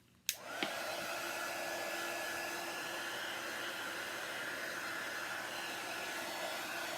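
A handheld hair dryer drying a craft piece switches on with a click and runs as a steady, even whooshing hum with a faint whine, close and continuous, no talking.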